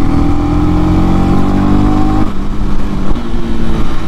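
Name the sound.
Honda CB300R motorcycle engine rev-matching on downshift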